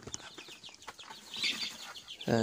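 A small farm flock of young chickens, about a month old, with roosters making up a large share, clucks and squawks in scattered bursts at moderate distance, ending with a louder, nearer call.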